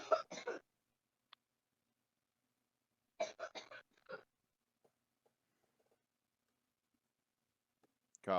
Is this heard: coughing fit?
yes